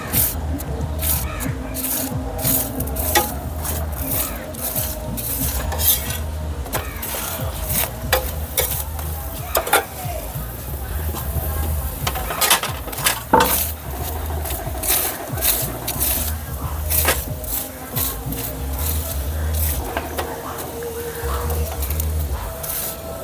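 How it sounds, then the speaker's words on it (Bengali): A cauliflower paratha fries in ghee on a pan with a low, continuous sizzle, punctuated by repeated scraping and pressing strokes from a spatula throughout. "আমি ঘি দিয়ে ভেজে নিচ্ছি"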